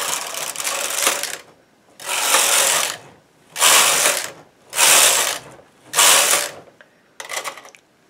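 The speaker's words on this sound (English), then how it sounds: "Now I'm going to grab my waste yarn and hand feed it and knit 8 rows." A knitting machine carriage runs rows of hand-fed waste yarn, giving five loud mechanical whooshing-clattering passes with short pauses between, then a brief partial pass at the end.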